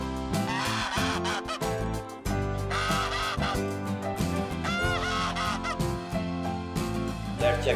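A farm goose honks repeatedly in dense, overlapping calls, loud and close, forming a continuous noisy chorus of nasal honks throughout.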